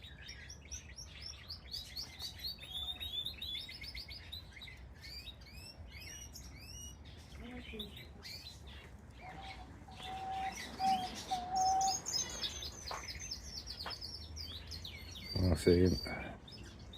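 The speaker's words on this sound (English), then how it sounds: "Canaries. Who doesn't love a canary? I look at the songs." Pet canary singing and chirping indoors, bright trilling phrases and tweets scattered across the clip, with a short spoken line and a brief low-pitched burst near the end.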